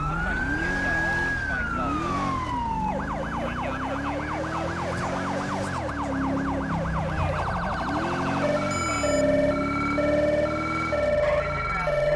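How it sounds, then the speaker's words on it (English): A Federal Signal Delta police siren in GTA V with the LSPDFR mod, loud and close, moving from a slow rising-falling wail into a rapid yelp, then steady alternating electronic tones over the engine drone. "We're still using the Federal Signal Delta siren."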